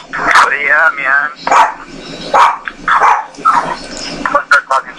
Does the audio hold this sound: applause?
no